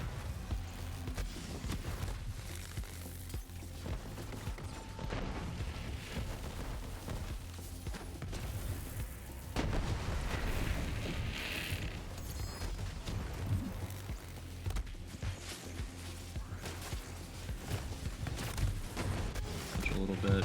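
A chain of explosions in a video game, fought with a gunless Amara at M10 endgame difficulty, gives dense, overlapping bursts over busy game noise, with a player talking throughout.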